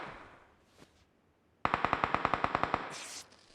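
A rapid burst of about a dozen and a half automatic gunshots rings out in a PUBG Mobile match, clipped and evenly spaced, following a quieter stretch of faint background game ambience.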